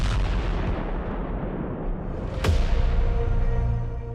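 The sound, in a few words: bomb explosion sound effect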